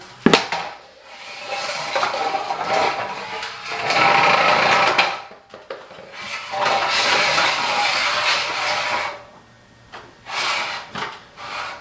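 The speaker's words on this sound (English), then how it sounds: "I'm just going to let this spool go down" A spool of electrical wire unwinds during a bathroom recessed-light installation, making long rushing, rubbing spins in several surges separated by brief pauses, close by and fairly loud, with no voices.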